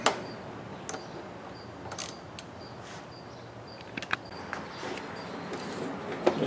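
A wrench tightens the bolts on the ignition coil of a Briggs small engine, close and fairly quiet, with a run of small ratcheting clicks and light metal taps over low background hum.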